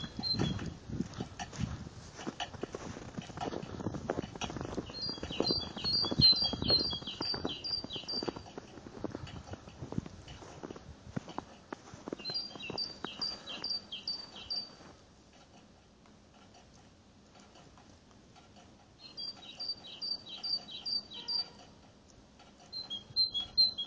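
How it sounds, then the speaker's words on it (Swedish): Small birds sing in short, high, repeated trilling bursts in a snowy Stockholm town centre on a February morning, with crunching footsteps on snow and light street noise beneath, and a quiet lull in between. "Vi ska lyssna lite grann på fåglarna medan jag promenerar framåt här."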